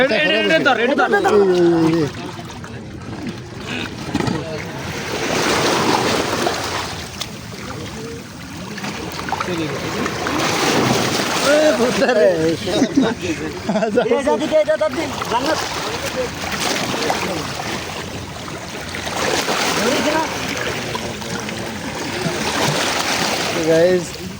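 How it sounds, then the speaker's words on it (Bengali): Waves on the Arabian Sea rush and wash along a rocky shore during a crab-catching outing, loud and continuous, with surges rising and falling under frequent talking nearby. "পানি ঢেউ প্রচুর।"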